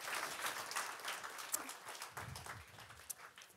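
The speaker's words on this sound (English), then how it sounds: "Please give them a warm round of applause." Faint, steady applause from a summit audience in Stockholm greeting the panelists, a soft continuous patter heard from a distance with a few sharper claps.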